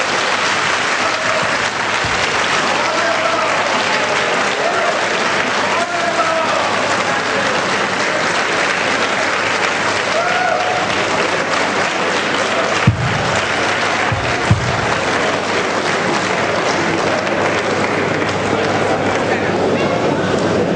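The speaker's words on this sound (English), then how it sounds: "I'm not sure the applause you gave is commensurate with the presentation." Sustained, loud audience applause fills a conference hall after a keynote address by Nigeria's Minister of Information, a dense steady wash of clapping with a couple of sharper knocks near the end.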